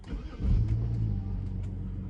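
A 400 hp BMW 335i engine fires up close by, a deep low rumble swelling quickly and then settling into a steady idle.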